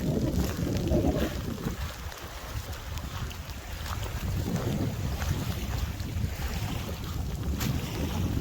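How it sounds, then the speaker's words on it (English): Strong wind buffets the microphone in a steady roar by the water near a sandy beach outside Perth, with a low rumble and faint splashing of water underneath, no voices. "the wind just got a lot windier as you come down by the water"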